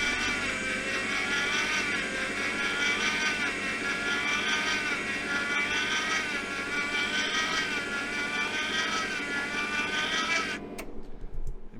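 A MIG welder with a faulty wire feed motor, used on a 1971 Range Rover body frame, gives a loud, steady buzzing drone with wavering whine for about ten seconds before cutting off abruptly.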